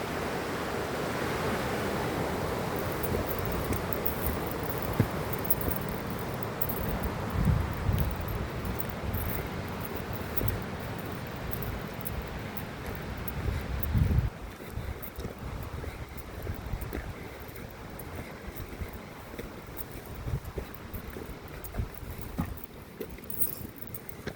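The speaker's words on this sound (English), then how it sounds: "Pretty windy today." A steady rushing wind blows across the microphone for a long stretch near the Ingalls Creek trailhead, broadband and constant with occasional gusty bumps.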